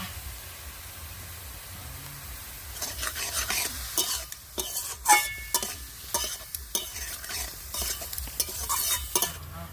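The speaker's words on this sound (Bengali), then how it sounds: "ভালো করে নেড়ে চেড়ে রসুনের সঙ্গে মিশিয়ে নেবে" Red amaranth greens with garlic stirred in a pan, the spoon scraping in irregular bursts over a soft steady sizzle, quiet at first and then busier and louder as the stirring picks up.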